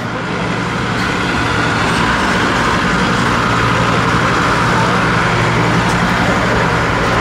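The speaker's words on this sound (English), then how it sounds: "And here's a military vehicle." A military vehicle rolling along Edinburgh's Royal Mile near the castle entrance, a loud continuous engine rumble and road roar that stays close and steady throughout.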